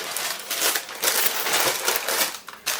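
Baking paper crinkling and rustling as it is pressed into a baking tray for a coconut sheet cake, a continuous close crackle in repeated bursts with brief dips, no talking.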